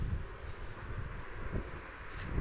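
Steady blustery wind buffets the microphone, a low rumbling roar with gusty swells throughout and no voices.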